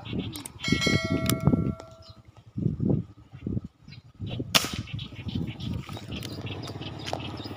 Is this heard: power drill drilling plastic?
no